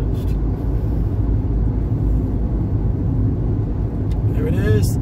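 A car rolls over the new Villages bridge on a Florida highway drive, a steady low road rumble under the cabin's engine noise, with people talking nearby.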